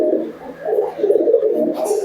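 Giribaj pigeons with their chicks cooing softly and steadily in a close, continuous low murmur.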